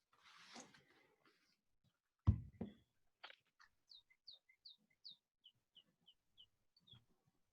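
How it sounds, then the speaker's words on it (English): Small birds at a window give a series of thin, high chirps, about a dozen short evenly spaced calls, faint and somewhat distant, following a few soft knocks and rustles in an otherwise quiet room. "Somebody's got birds at their windows."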